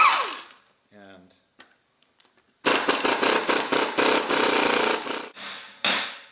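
Hammer blows knock a rusted hub off a brake rotor on a 4WD Toyota front axle: a quiet stretch with a few small taps, then a loud, rapid series of sharp metallic bangs close by, a brief pause, and a final burst.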